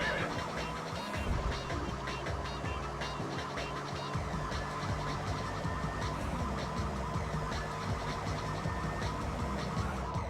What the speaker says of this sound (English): Faster coppers. Including the faster siren